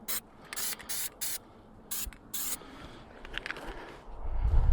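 Grease sprayed from an aerosol can onto a lawn mower lift jack, in several short loud hissing bursts of varying length, followed by rustling handling noise, with no talking.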